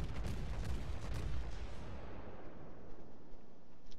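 A naval gun volley from a warship in a video game sounds as a dense, rumbling roar of heavy overlapping blasts. It is loud at first and then trails off into a long, dull decay with no talk.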